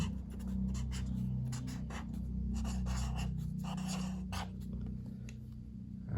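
A pen scratches across paper in short close strokes and scribbles, a steady papery rasp with brief pauses between words, set over a continuous low hum.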